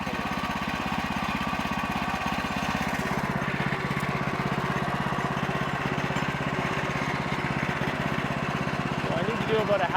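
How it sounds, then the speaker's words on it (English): A Woodland Mills HM130 portable sawmill runs while cutting a log, its small engine chugging in a steady, close, continuous drone with rhythmic pulsing and a slight rise near the end. "Just show you how accurately the mill's cutting."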